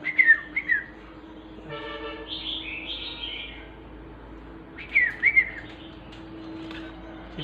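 A pet bird chirps nearby in short bursts, two clusters of bright whistled notes separated by a quieter stretch with a soft fluttering trill in between, over a low steady background hum.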